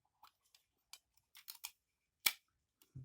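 A taş kadayıf dessert package is opened in a quiet room with a series of brief crinkly snips and plastic crackles, one sharper rip near the end, followed by a low voice.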